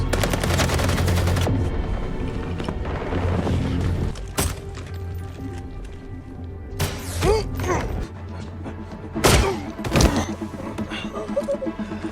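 A guard fires gunshots in an action film scene, several sharp loud bangs scattered through a dense mix of music and effects.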